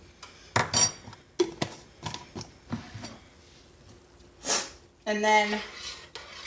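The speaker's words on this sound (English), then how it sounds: "I stir it up and see how it tastes" A spoon stirs a chicken and stuffing casserole mixture in a pot, giving scattered clinks and scrapes against the metal, close by, with a brief spoken voice.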